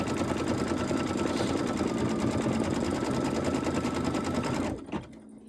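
An embroidery machine stitches a small mouse design, its needle hammering in a fast, steady mechanical rhythm up close before cutting off abruptly near the end.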